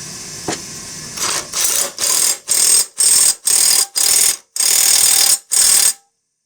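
An air impact wrench tightens the blade bolt on an MTD 21-inch push mower, firing in about nine loud, rapid hammering bursts roughly half a second apart, close up, ending abruptly.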